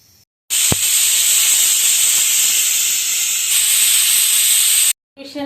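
A pressure cooker of naati-style mutton sambar vents steam in a loud, steady hiss that runs unbroken for about four and a half seconds before cutting off abruptly, with no talk over it.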